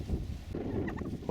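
Turkey gobbling nearby, a big male bird in an outdoor setting, with a short burst of warbling calls in the second half over steady background noise.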